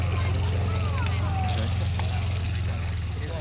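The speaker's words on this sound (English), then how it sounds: "The first aircraft in our flying display program now takes to the runway. The Fornia RF4D, known as Red Hawk" A Fournier RF4D light propeller aircraft taxis onto the runway at the Shuttleworth flying display, its engine a steady low drone beneath a public-address commentator's voice.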